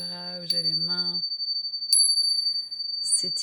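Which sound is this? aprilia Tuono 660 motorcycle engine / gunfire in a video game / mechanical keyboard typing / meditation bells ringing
meditation bells ringing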